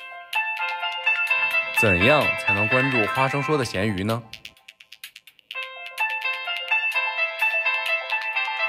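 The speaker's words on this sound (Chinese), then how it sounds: "好在诺基亚经典的来电铃声还在，我甚至翻到了另外一个非常熟悉的铃声啊" A classic Nokia mobile phone ringtone melody plays loudly and close, breaks off while someone speaks briefly, then resumes its bright repeating tune.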